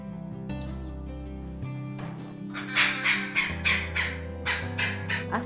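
Saint Vincent amazon parrots let out a run of harsh, rhythmic squawks, each cry about half a second apart, fairly close and loud over a steady musical backing.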